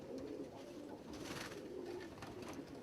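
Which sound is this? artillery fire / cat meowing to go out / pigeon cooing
pigeon cooing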